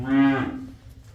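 A single cow on a dairy farm gives one loud, close moo that lasts under half a second and fades into a quiet barn background.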